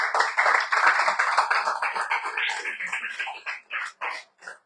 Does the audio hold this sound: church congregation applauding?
yes